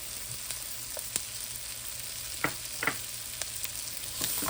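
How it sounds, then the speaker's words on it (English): Garlic frying in a hot pan for sweet and sour chicken, a steady close sizzle running throughout with a few brief crackles and pops and no talking. "so we go ahead and put our garlic in there"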